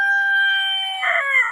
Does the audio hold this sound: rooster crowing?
yes